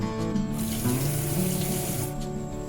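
Running kitchen tap water splashes steadily as a knife is dipped into it before sharpening, a continuous close, moderately loud wash of water with no talking.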